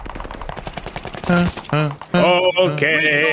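Automatic gunfire in the World War II shooter Call of Duty: Vanguard, with rapid bursts of shots up front followed by loud blasts and game effects, and a brief spoken word.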